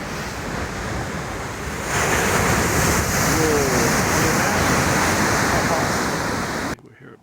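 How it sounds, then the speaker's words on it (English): Large ocean waves break well offshore in high wind, a steady roar of surf with heavy wind rumble on the microphone, continuous and loud before cutting off abruptly at the end. "They're good sized waves."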